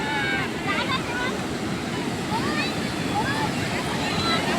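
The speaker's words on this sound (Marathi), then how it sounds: "विषय समुद्र लय खवळलेला आहे." Rough, churning sea waves at Malvan beach, a continuous loud wash of surf with wind noise, and voices calling over it nearby.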